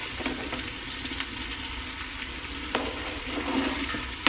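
Chopped onions go into a pot of browning Italian sausage, a steady moderate sizzle with occasional stirring scrapes and a sharp knock at the end.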